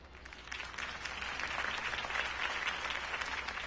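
Steady applause from a crowd, sustained clapping at a moderate distance that holds throughout without pause.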